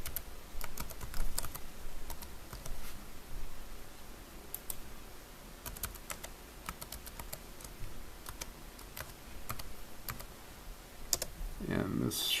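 Administrator password being typed on a computer keyboard, quick light key clicks in scattered bursts over a steady background hum, with faint speech-like sound at the end.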